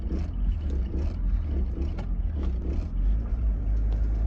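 A Mitsubishi Evo X with bolt-on upgrades idles and surges with the clutch pressed in, a deep, steady engine rumble with rhythmic pulsing bounces heard from inside the cabin while driving.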